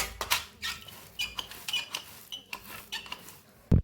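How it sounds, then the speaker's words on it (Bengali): Palmyra palm fruit seeds squeezed and scraped by hand to pull out the pulp, giving a run of wet, squelchy squishes and soft scrapes close up, with no talking. "এইভাবে সমস্ত পাল্পগুলো আমি বার করে নেব।"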